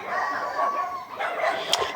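Dogs bark faintly in the distance, a few soft yaps over an outdoor background after a walk in a village yard.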